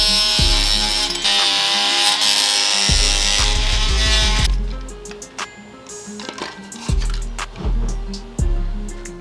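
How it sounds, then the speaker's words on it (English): A power tool shaves down protruding plastic tabs on an AEM 340LPH fuel pump for a Nissan 350Z, heard as loud bursts of whirring grind broken by short pauses and repeated brief passes. "these tabs that are sticking out on the fuel pump, I have to shave those down in order for it to close up properly"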